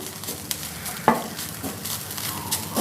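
Grated coconut being dry-fried in a pan, with soft scraping stir strokes and a faint steady crackle throughout, one sharper scrape standing out early on.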